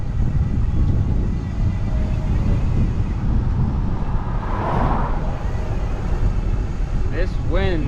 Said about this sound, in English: This wind is absolutely relentless.